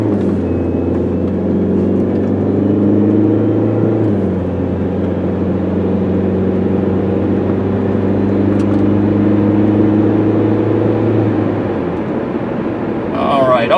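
A 2004 Chrysler PT Cruiser Limited with a turbo drives along a road at about 55 mph, its engine and road noise a steady, smooth interior drone with a slight shift in pitch partway through.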